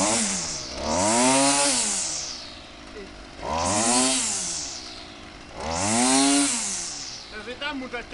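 A motorized scythe brush cutter mowing grass, its engine loud and close, rising and falling in three long revving sweeps with no voices.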